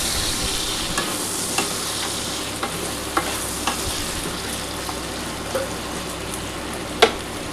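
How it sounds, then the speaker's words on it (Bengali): Potatoes fry in a covered pan with a steady, dense sizzle, broken by occasional sharp clicks and scrapes of stirring, the loudest near the end; close and alone, no talking. "আমি ঢাকা দিয়ে কিন্তু আলুটা ভাজছি"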